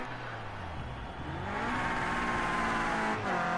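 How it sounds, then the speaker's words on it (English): A Clio Cup race car at the Red Bull Ring screams at very high revs, its engine note climbing steadily and staying loud and close throughout, with no talk over it. "Oh, very high revs."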